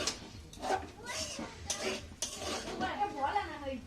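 Food being fried in a home kitchen pan is stirred with a utensil, with scraping and clinking of metal against the pan at a moderate, close level and faint frying underneath.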